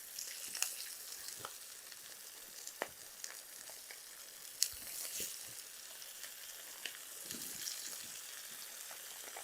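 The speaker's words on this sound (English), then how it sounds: "Oh yeah, you heard that sear?" Scallops searing in a hot pan while risotto is made, giving a steady, close crackling sizzle with scattered sharp pops and ticks throughout.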